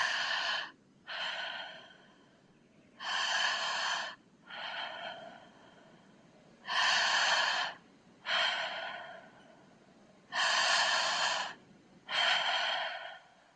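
Breathwork breathing cycles: a deep belly inhale followed by a loose let-go exhale, repeated in pairs, each breath a rushing, airy burst about a second long with quiet pauses between, close and fairly soft.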